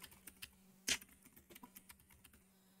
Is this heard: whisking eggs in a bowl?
no